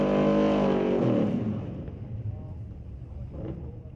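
A lone drag race car at Mission Raceway Park blasts loudly off the line, its engine roar dropping away quickly into a fading distant rumble.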